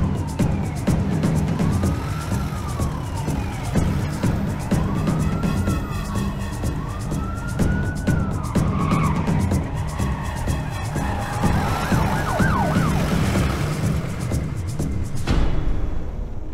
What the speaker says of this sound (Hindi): गगन जिस एम्बुलेंस में है वो निमहंस की जगह दूसरी साइड से जा रही है।